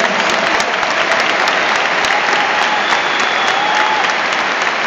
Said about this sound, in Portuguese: Vamos receber o pastor Rômulo Digino dando a melhor salva de palmas para Jesus.